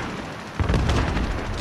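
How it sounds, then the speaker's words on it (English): In a team deathmatch shooter game on a bridge map, a grenade explodes in a sudden loud boom. A rumbling tail follows and holds to the end of the brief moment. "Throwing grenade!"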